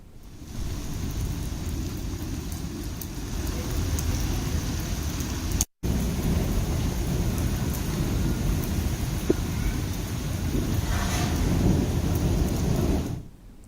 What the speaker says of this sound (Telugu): ఈదురుగాలులు మెరుపులతో కూడినటువంటి భారీ వర్షం కురిసింది